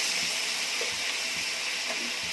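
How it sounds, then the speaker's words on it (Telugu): A soft, continuous rush of water being poured into a pot of broccoli, potato and tomato curry, steady and hissy with faint low thuds underneath. "ఇప్పుడు కొంచెం వాటర్ వేసుకుందాము, కాయగూరలు మునిగేంత వరకు"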